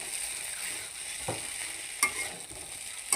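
Pasta being stirred in a pan with green chili, chili powder, turmeric and salt, a soft, low hiss with a few light scrapes and clinks.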